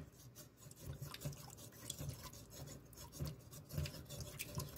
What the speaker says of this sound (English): You just move the potato around, and you scrape it.